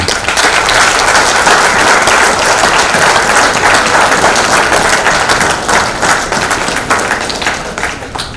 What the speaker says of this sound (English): I request all the audience to give big applause to these three